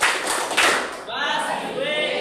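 Class of students clapping together during a classroom chant, broadband hand claps mixing with a chorus of young voices, fairly close and loud.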